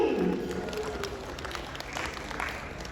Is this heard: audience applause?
yes